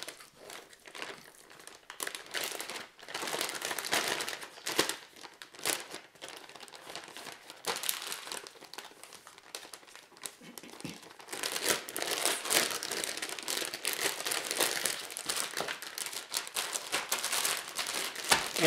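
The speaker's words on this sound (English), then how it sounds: "I'm going to put in this pork butt into a Ziploc bag." Pork butt is squished and mixed with marinade inside a Ziploc bag, making continuous close crinkling and rustling plastic sounds with wet squishing, irregular and fairly soft throughout.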